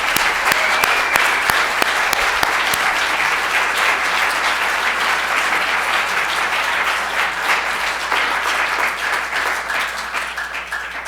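Sustained applause from a convocation audience honoring female cantors with honorary degrees, a steady dense roar of clapping that holds evenly and fades slightly near the end.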